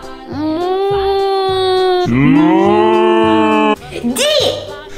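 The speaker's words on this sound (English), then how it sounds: "Cow." A cow moos loudly and up close in long, drawn-out calls over a simple bouncing nursery-style backing beat, with a short childlike vocal sound at the end.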